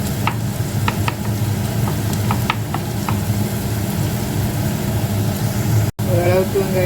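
Onions sautéing in a pan, with a steady low sizzle and a few short scraping stirs near the start. The sound runs continuously at moderate loudness and breaks off briefly toward the end.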